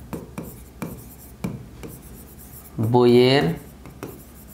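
Pen strokes scratch on paper as numbers are written by hand, short rhythmic rubbing taps close to the microphone, with someone speaking briefly over them partway through.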